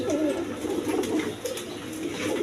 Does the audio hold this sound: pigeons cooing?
yes